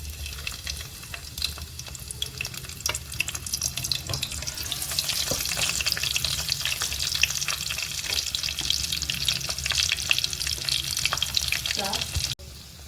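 Garlic sizzles in hot oil with cumin in a pan while mutton karadi bhaji is being made, a steady, loud frying hiss with crackling pops throughout and a brief clatter near the end.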